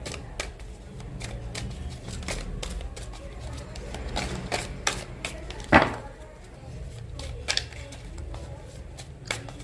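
Tarot cards are handled and drawn from a deck in a string of soft, close papery flicks and taps, with one sharper slap midway, over a low background murmur.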